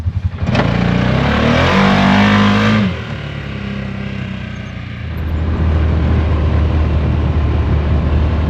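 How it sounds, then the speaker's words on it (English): A car does a burnout on sandy ground, its engine roaring at high revs for a few seconds, then dropping off into a lower rumble and rushing noise, close and loud. "Burnout."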